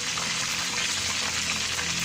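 Chicken wings and legs frying in hot oil, a steady dense sizzle with crackling and bubbling that holds at a constant level throughout, close by with no talking.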